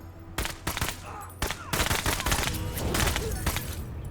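Rapid bursts of unit gunfire in the tactical video game Menace, a loud volley of overlapping shots that thickens into sustained fusillade-like firing over about four seconds, with no talking.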